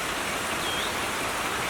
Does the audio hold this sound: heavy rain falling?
yes